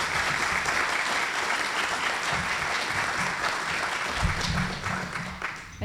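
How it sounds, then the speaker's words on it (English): Sustained audience applause at an education leadership awards ceremony, a dense, steady wash of many hands clapping close and loud, tapering slightly near the end. "let's give one more round of applause for our leaders"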